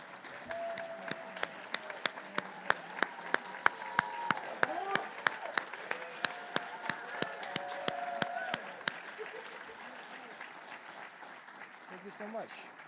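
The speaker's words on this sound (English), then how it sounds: "Big round of applause." Audience at a fundraiser claps to welcome guests, sharp close claps over a broad crowd wash with cheering voices mixed in, thinning toward the end.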